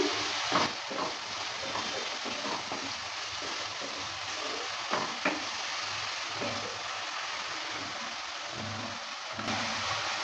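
Falli fish curry frying in mustard oil is stirred in a pan over a steady close sizzle, with occasional scraping and clinking strokes of the spoon on the cookware, no talk.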